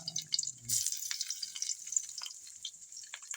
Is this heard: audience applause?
no